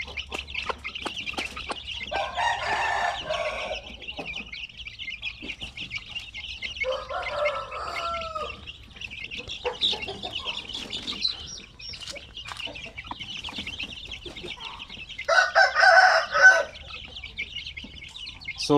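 Native chickens and young chicks at a poultry farm during feeding: steady high chirping from the chicks throughout, with louder clucks and squawks from adult hens breaking in several times, fairly close and with no voices.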